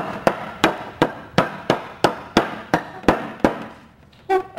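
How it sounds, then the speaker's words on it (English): Bolts are hammered through the wood of a sandbox frame, about ten sharp, evenly spaced blows ringing out close and loud, each decaying briefly before the next, ending with a short voice. "hammer them through."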